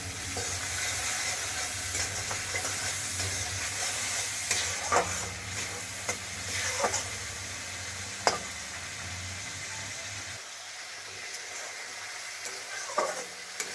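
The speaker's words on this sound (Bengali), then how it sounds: "এটাকে ভালোভাবে নাড়তে হবে, না নাড়লে তলায় কিন্তু বসে যাবে।" Coriander leaf pickle sizzles steadily in an oily pan while a spoon stirs it, giving a constant frying hiss with occasional scraping clicks of the utensil against the pan bottom, close up and without talk.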